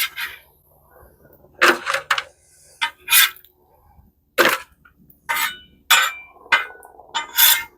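Cooked bacon is moved into a pan, giving a series of sharp, separate clanks and scrapes of utensils against metal, close up and unevenly spaced, with quiet gaps between them.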